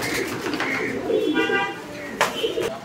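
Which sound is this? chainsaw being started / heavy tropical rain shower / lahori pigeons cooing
lahori pigeons cooing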